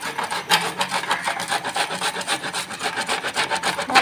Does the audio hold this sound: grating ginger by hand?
yes